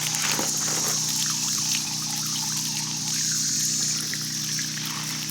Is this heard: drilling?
no